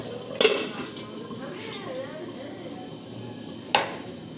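A cooking pot in a home kitchen gets its lid set on, with one sharp metallic clank near the start and a second close, bright clink near the end over a soft, steady background.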